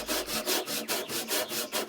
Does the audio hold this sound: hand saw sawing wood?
yes